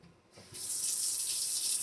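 Cold tap water runs from a faucet into a pressure canner holding five jars of raw chicken, starting after a brief quiet moment and then flowing as a steady, close, loud rush with no talking.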